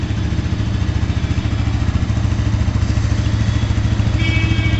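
A Bajaj NS200 BS6 2020 200cc single-cylinder motorcycle engine runs steadily up close with a rapid, throbbing pulse and mechanical clatter through its short exhaust, climbing slightly in pitch near the end.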